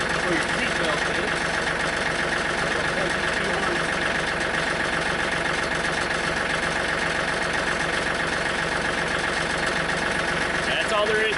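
A John Deere 4105 tractor engine idling close by, a loud, even mechanical drone with a steady rattle that holds without change for the whole stretch.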